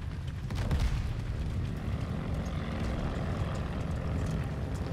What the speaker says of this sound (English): That's a plane!